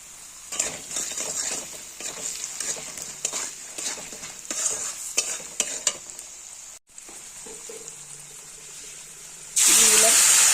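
Fried potatoes sizzle loudly in a pan as salt and turmeric go in, with steady frying hiss and spoon stirring throughout, ending in a louder burst of sizzle.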